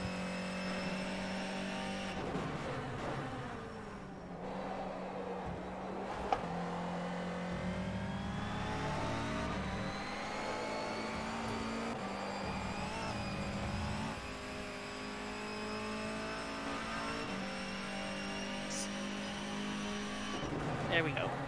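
Touring car engine racing at Zhuhai in rFactor 2, a steady droning motor that climbs and drops through gear changes and braking, with occasional tire squeal, heard continuously under a commentator's talk.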